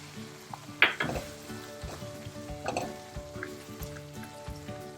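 A paneer tikka biryani mixture sizzles and fries in a pan, with steady crackling punctuated by a few sharp scrapes and clinks of stirring, close and fairly soft, no voices.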